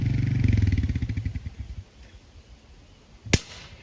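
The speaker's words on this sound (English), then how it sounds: "the ATV noise and the backfire as soon as it shut off" An ATV engine idles loudly with a rough, pulsing chug for nearly two seconds, then cuts out to quiet, and a single sharp, loud backfire bang follows near the end.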